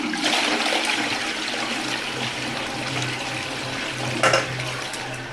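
A newly installed, bolted-down toilet is flushed in a bathroom where the drain pipe runs against the slope; a loud, steady rush of water fills the whole stretch, with a sharp gurgling surge near the end.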